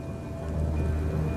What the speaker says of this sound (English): Weeks of unrelenting downpours drench the landscape.